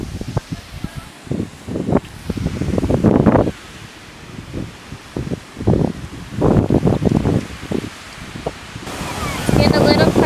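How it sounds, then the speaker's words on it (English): Gusty wind buffets the microphone in loud rumbling bursts, rising and falling across the clip. "It's a little bit windy and we forgot an umbrella."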